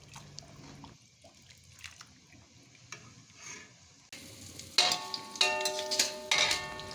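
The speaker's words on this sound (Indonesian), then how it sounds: "Ini aku lagi bikin bawang merah goreng guys." Shallots frying in hot oil for rawon, a soft sizzle at first that swells into loud, crackling spitting with sharp pops over the last few seconds, close by and with no talking.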